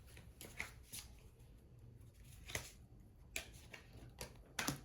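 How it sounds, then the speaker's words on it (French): Tarot cards are turned over and handled close by, giving a series of crisp papery flicks and slides in quick, irregular bursts against a quiet background. "Alors, je retourne les cartes de suite."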